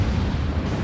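Naval cannon fire in World of Warships, a British Minotaur cruiser trading shots with an enemy: a brief, loud, rumbling boom that fills the moment with low heavy sound.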